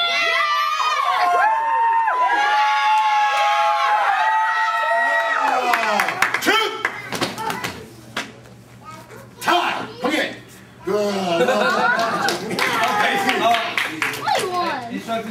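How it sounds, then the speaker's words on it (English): A taekwondo team at a black belt instructors' training session bursts into loud group cheering, shouting and clapping, with children's voices prominent; the chant rises and falls in bursts with brief dips before surging again. "Let's hear your cheer."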